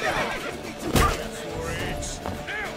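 A horse whinnies and neighs loudly in The Witcher 3 video game, with hoof clatter and a thudding impact mixed in while characters shout over the action.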